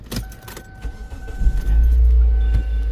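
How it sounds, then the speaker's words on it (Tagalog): A car that has sat unused for two days idles to warm up. A low engine rumble grows steadier and louder through the clip, with a few clicks and rattles near the start. "Painitin ko muna yung sasakyan ng mga 2 minutes or 1 minute."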